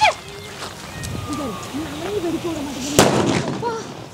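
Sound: Lakshmi firecracker exploding

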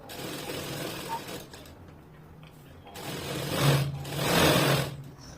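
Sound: sewing machine stitching along edge of blouse sleeve

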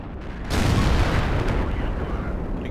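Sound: tank cannon shot hitting an enemy in World of Tanks video game

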